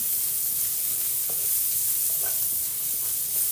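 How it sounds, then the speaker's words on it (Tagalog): Chopped onions sautéing in a pan for pork adobo, a steady soft sizzle with a few faint stirring scrapes, close and even throughout. "So, igisa lang natin ito. Hintayin natin siyang mag-golden brown ang onion."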